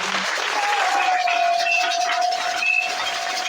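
A church congregation at a Sunday service gives a sustained round of applause, dense and even throughout, with a faint tonal whistle-like line running through the hall noise.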